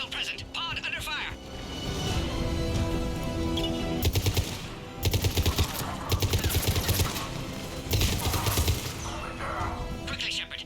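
Automatic gunfire in the Mass Effect 3 Legendary Edition video game, sustained loud bursts of rapid shots coming in several waves, with talk and game effects running underneath.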